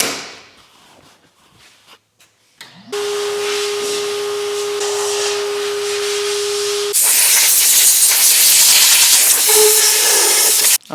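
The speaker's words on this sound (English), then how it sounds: "this will be just a few milliseconds in the blaster and we'll be done" Abrasive media blaster cleaning car parts for an Evo 8 restoration, a loud steady blast of hiss with a tonal hum that starts abruptly after quiet handling noises, then grows louder and brighter until it cuts off at the end.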